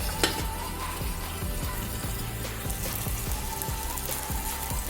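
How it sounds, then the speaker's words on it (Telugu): Onion and tomato fry in a pan as a steady, dense sizzle with bubbling crackle, and occasional stirring scrapes run through it. The sound is close, continuous and without speech. "ఇట్లా ఆనియన్, టమాటో ఫ్రై అవుతుంది."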